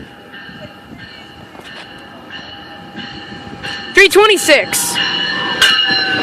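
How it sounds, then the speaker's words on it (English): GO express train rolling through Danforth station, rumbling past with bright wheel squeals and clattering rail noise that grow louder toward the end, while a person talks nearby. "Hey, another train coming."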